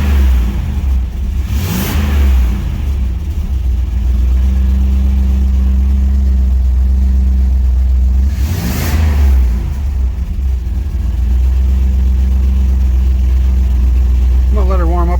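A 1992 Pontiac Trans Am engine idles loudly up close, revving up twice in sharp, rising bursts before settling back to a steady rumble.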